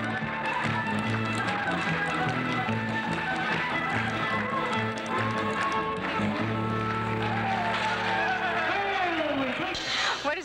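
Rapid, rhythmic foot taps from clogging dancers clatter over loud country music, busy and continuous with a lively crowd feel.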